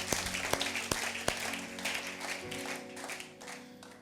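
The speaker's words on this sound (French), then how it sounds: "Si c'est ton cas, tu peux applaudir" Church congregation applauding, a dense wash of clapping with several sharp close claps early on, tapering off with faint tones lingering beneath.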